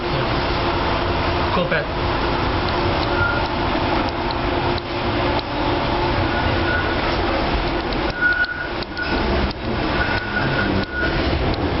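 Interior of a DLR train running near Canary Wharf toward Poplar, with a steady rumble and whir of the carriage throughout, brief higher squeals near the end, and voices talking over it.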